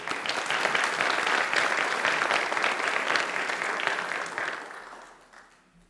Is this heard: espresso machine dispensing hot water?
no